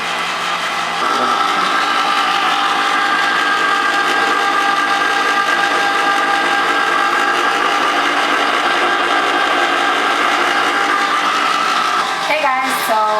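A home ice cream maker churns frozen yogurt with a steady, loud motor whir and faint scraping that runs continuously, ending in a brief clatter near the close.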